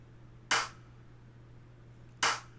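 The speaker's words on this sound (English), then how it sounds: "I have a little snare. It's just a basic little snare." Two sharp, isolated snare hits from a basic trap-beat sample, each a crisp clap-like crack spaced well apart over a low steady hum.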